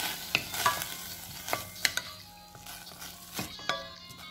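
Rice is tipped into a pan of seasoned food and stirred with a utensil, making several sharp scrapes and clinks over a soft sizzle, close and fairly quiet.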